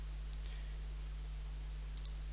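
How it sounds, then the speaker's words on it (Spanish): A computer mouse clicking on a chart in Excel, two faint, brief clicks spaced apart over a steady low electrical hum. "damos clic sobre la barra o la columna azul"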